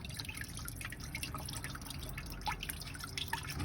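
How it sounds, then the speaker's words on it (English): Distilled water drains from the opened radiator drain plug of a 2008 Chrysler Town and Country during a flush, a quiet continuous trickle broken by small irregular drips and splashes, close by and without speech. "I removed the drain plug and we're now draining the water."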